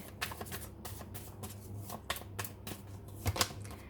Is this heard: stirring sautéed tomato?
no